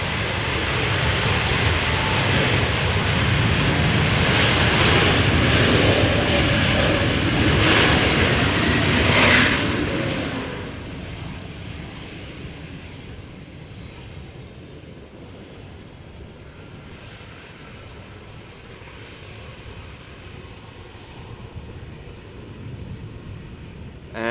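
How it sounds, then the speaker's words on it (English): Air Transat A321neo narrow-body airliner arriving at Amsterdam Schiphol from Toronto, a broad engine roar that stays loud for about ten seconds, then fades into a softer, distant rumble with wind noise. "this is Air Transat A321neo arriving from Toronto"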